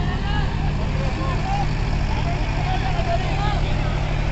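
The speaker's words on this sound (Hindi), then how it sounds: "दोनों ट्रैक्टर चल रहे हैं फिलहाल रोटावेटर पे, आप सभी के सामने है" Mahindra 575 and Sonalika 745 tractors run with rotavators during a demo, their engines making a steady, close, low rumble while someone talks over them.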